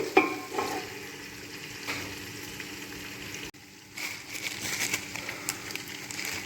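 Onions, ginger garlic paste and green chillies frying for biryani make a dense, crackling sizzle with occasional stirring scrapes, near and steady, briefly dipping mid-way before resuming, without speech.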